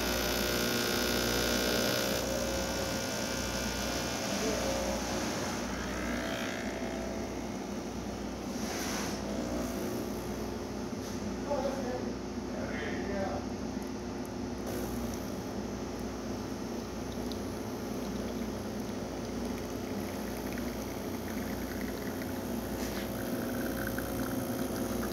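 A Breville 870XL espresso machine pulls a shot with a steady low pump hum and faint hiss that run unbroken for about twenty-five seconds at a moderate, even level, with no voices.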